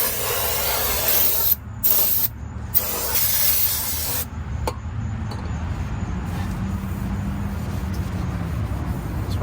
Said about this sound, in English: we're gonna go ahead and clean the surface here with some brake cleaner